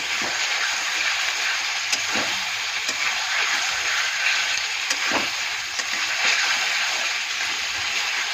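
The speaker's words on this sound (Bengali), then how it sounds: "তো আদা রসুনের পেস্টটা দিয়ে আমি ভালো মতন একটু কষিয়ে নেব" Ginger-garlic paste sautés in a pan for coriander chicken, giving a steady, close crackling sizzle that runs throughout with a few sharper pops and stirring clicks.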